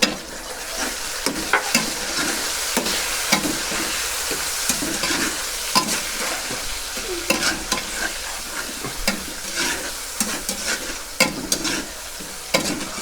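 Garlic and tomatoes stirred into a sizzling masala for chicken pulao, with steady frying hiss under repeated scraping strokes of a spoon against the pot.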